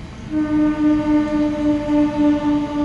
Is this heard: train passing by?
yes